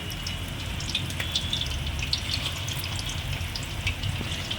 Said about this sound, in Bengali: একটা করে এই চিংড়ি মাছগুলোকে ছাড়বো বেশি ভাজবো না খুব কয়েক সেকেন্ডের জন্য একটু ছেড়ে দিচ্ছি